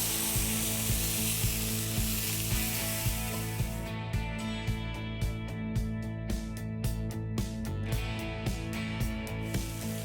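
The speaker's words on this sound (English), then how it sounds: "I'm adding the beef into the pan and cooking it again because I want to get more flavor on it" Beef sizzles steadily in melted beef tallow in a pan, a continuous close hiss with faint regular ticks, under a sustained tonal backing throughout.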